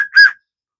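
Homemade wooden whistle cut from a larger dowel with a carved, rounded mouthpiece gives one short, clear whistle blast that rings alone, then silence.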